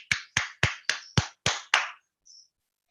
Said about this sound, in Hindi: हमारे राजेश पांडे सर के लिए जबरदस्त आप लोग तालियां बजाएं